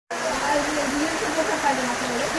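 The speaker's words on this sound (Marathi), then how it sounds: "पाऊस येतोय विजा कडकडताय." Heavy, continuous monsoon rain at a house, a dense steady hiss and wash that starts abruptly and holds without letup; no distinct thunderclap stands out, and a voice murmurs faintly beneath.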